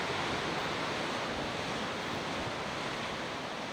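Steady roar of ocean surf mixed with gusting wind on the coast of Brittany, loud and continuous, with no voices.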